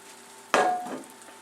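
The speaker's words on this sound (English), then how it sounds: "Once you have this pretty well greased up with butter, pour in your batter." Dutch baby batter poured into a hot butter-greased pan, a sudden close splash and burst of sizzling that fades over about a second, with no talk.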